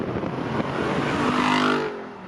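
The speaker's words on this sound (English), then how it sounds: "It has this performance exhaust, that opens it up and really just makes like a straight through exhaust almost." A loud V8 engine of a 2024 Jeep Wrangler 392 Final Edition with near straight-through performance exhaust revs up with a rising roar, then the pitch climbs and drops off near the end, close and continuous.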